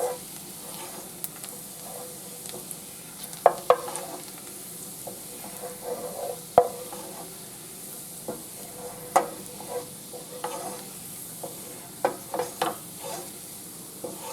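Garlic sizzles gently in butter in a pan before green beans are added, a soft steady crackle close by, punctuated by sharper pops and stirring clicks throughout.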